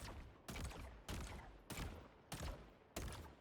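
A weapon fires in the video game Helldivers 2, six loud, evenly spaced bursts in quick succession, each with a short, decaying tail.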